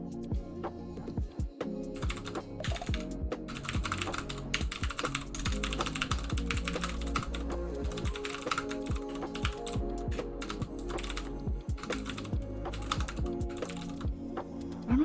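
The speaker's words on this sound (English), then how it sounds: "So I have what's called a Ducky keyboard." Rapid, steady clatter of keys on a Ducky mechanical computer keyboard being typed on continuously, close and fairly loud, with no voices.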